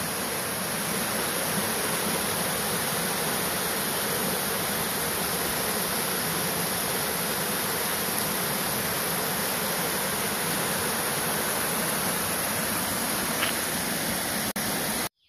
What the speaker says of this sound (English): Just came down to a road crossing and saw this beautiful stream.